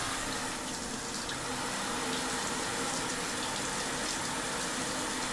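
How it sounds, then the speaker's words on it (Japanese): A hotel shower runs at strong pressure, giving a steady, dense hiss of spraying water that holds evenly and fairly close throughout, with no voices over it. "シャワーは絶好調の水圧ですね。"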